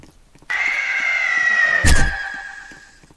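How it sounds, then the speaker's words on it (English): Screaming from the Roblox Piggy video game: a sustained shrill cry starts abruptly and holds steady for over two seconds, fairly loud, with a dull thump partway through and fading at the end. "I hear the screams."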